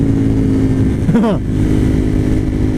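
A Suzuki TL1000R motorcycle with 150,000 miles roars loudly and steadily up close while being ridden, with a sharp rev to the limiter and a quick pitch sweep as it shifts mid-clip.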